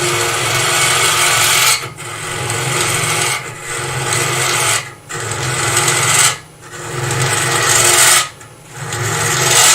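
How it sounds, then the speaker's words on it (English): A spindle gouge cuts a turned wooden box on a lathe, hollowing it like a bowl: a steady, loud scraping hiss that keeps going, with four short dips where the tool lifts off the wood, and nobody talking. "This is all with the spindle gouge."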